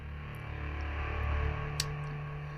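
Les Paul electric guitar power chord heavily processed with filter and delay into a cinematic texture, a low droning swell that rises and fades over a hissy wash, with a single faint click near the end.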